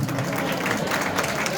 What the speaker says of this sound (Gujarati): તાળીઓના ગણગણાટથી વધાવો